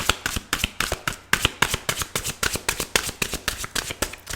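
Tarot cards being shuffled and drawn, a steady run of quick crisp riffling flicks close by, about four or five per second, with no talk.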